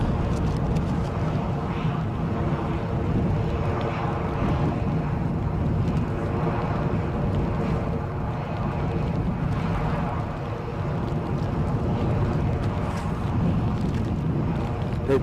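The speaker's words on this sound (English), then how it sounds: "Corp says we've got an EasyJet 320 on finals from Reykjavik." An EasyJet Airbus A320 on final approach into Edinburgh from Reykjavik gives a steady, distant jet rumble through gusty wind, while someone talks continuously over it.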